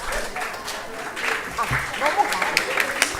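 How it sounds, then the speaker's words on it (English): Audience applause at a 2024 closing ceremony award presentation, a steady patter of clapping that rises toward the end, with talk over it. "Yes, give a round of applause"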